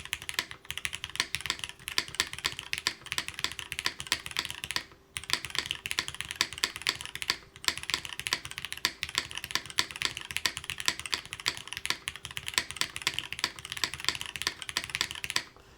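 Typing on a Bias DE mechanical keyboard: dense, rapid clacking keystrokes close up, in bursts separated by short pauses, with no talking.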